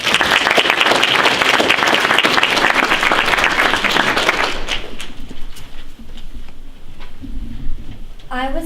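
Loud, dense applause from an audience welcoming the second-place winner of an MLK essay contest, steady clapping that thins and tapers off midway, then scattered claps and faint room noise with a voice at the end.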